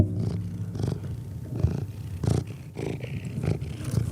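A cat purrs steadily up close, a low rhythmic rumble pulsing with each breath, with no talking over it.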